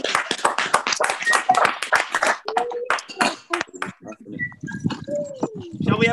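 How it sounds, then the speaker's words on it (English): A small audience at a live storytelling session claps in short, scattered bursts after a story ends, close and uneven, with voices and a cheer mixed in and tapering off into chatter. "Give yourselves a round of applause."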